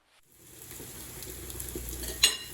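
Onions and peppers hit a hot pan with ginger, olive oil and butter, a quiet sizzle that builds gradually from near silence, then a sharp utensil clink near the end.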